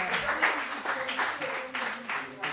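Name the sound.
audience applause for conference organisers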